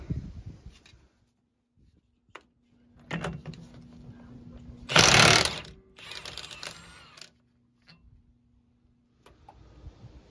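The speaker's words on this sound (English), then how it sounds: "use a 30mm socket and remove this nut" Mechanical clicks and ratcheting bursts from a 30mm socket taking the pinion nut off the rear differential of a 2007-2021 Toyota Tundra, several short separated bursts with one loud central burst, close by and with no talking.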